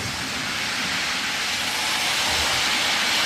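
Steady, dense rushing hiss with a low rumbling churn throughout from a Lionel O-scale toy train running continuously nearby on a Christmas layout, no voices.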